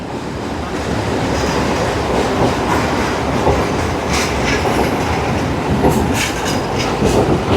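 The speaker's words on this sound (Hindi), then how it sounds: "हमारी ट्रेन एक ब्रिज से गुजरती हुई आगे की तरफ जा रही है।" A Kolkata Circular Rail train crosses a bridge, with a continuous loud rumble of wheels and rhythmic clickety-clack from the rails, plus occasional brief metallic squeals, and no voices.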